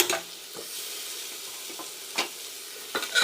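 Tomatoes and curry leaves sauté in hot oil for chicken kulambu, a steady close sizzle with a few quick scraping stirs of a spatula.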